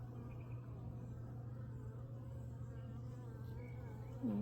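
Honeybees buzz steadily around an open hive during an inspection, a dense continuous drone close by and fairly loud, with a low hum underneath throughout.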